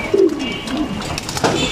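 Pigeons coo softly and close by during a winter bath, a few short throaty calls repeating over a quiet background.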